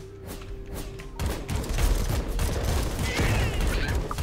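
A blast erupts in the AK-xolotl video game on PC, a broad booming burst that swells after the first second and holds loud and dense with rumbling, crackling impacts through the end, with no talk over it.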